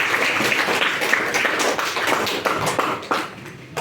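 A classroom gives a round of applause for a team: dense, steady clapping from many hands fills the whole stretch at an even level with no talk over it.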